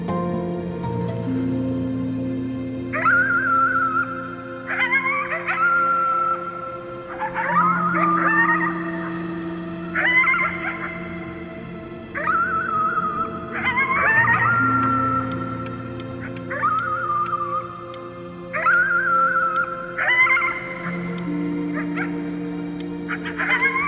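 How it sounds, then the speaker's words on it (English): A dog howls at the moon in the video game Before Your Eyes, giving long, repeated wavering howls at a steady pace, each followed by a short pause, set over a low sustained musical drone. "You howled at the moon, at the top of your lungs."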